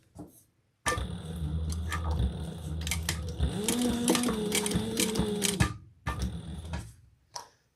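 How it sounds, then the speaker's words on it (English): A home sewing machine runs steadily while top stitching a fabric car trash can at a slightly lengthened stitch, with a loud continuous mechanical whir for about five seconds, then a shorter burst after a brief pause. "Let's top stitch. I'm going to increase my stitch length too"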